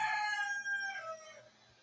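A rooster crows once, loud and close, in a long, falling call that trails off, with a faint low hum of background noise.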